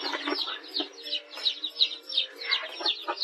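A hen in a rural home yard, found with her newly hatched chicks in a duck pen, gives repeated clucks and squawks in short bursts, close and fairly loud.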